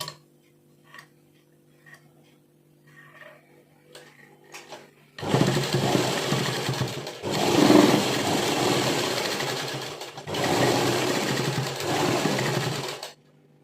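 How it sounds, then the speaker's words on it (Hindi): A sewing machine stitches along a salwar waistband in loud, steady runs after faint clicks, pausing briefly twice between bursts. "अब हम इसको अंदर की तरफ मोड़ के और नेफे के ऊपर ऊपर सिलाई लगा देंगे"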